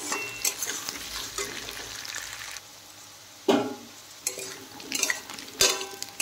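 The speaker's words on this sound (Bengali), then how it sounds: "এদিকে দেখেন আলুটা ভাজা হচ্ছে," Potatoes fry in a pan for a fish-roe curry, giving a steady sizzle. Spoon or spatula strokes stir them at intervals, with scraping bursts near the middle and the end, and no talk over it.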